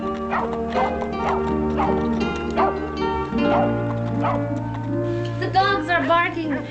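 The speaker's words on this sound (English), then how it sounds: "The dogs are barking." Several dogs bark in bursts of sharp, repeated yelps and bow-wows at close range on an old western ranch, with a low steady drone underneath and a flurry of higher yips near the end.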